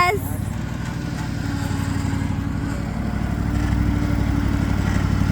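Riding lawn mower engine running close by with a steady low rumbling drone and a constant throb. A faint voice can be heard briefly at the start.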